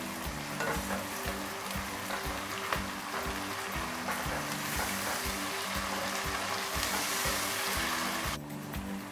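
Garlic ginger paste, three tablespoons, fries in hot oil in a pan with a dense, steady sizzle and crackle, stirred with rhythmic scraping, before the sizzle drops away abruptly near the end.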